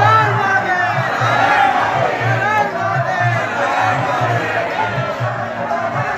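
A dense crowd of devotees shouts and chants at a Kolkata Shiva temple while pouring water on the Shiva lingam, a steady loud roar of many overlapping voices that fills the space without pause.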